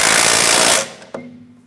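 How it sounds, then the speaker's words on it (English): An impact wrench hammers the rear brake caliper bracket bolts tight on a 2008-2016 Chrysler Town & Country. A loud, close, rattling burst lasts under a second and cuts off, followed by a single sharp clack and a fading ring. "Let's go ahead and snug them up and torque them to manufacturer's specification"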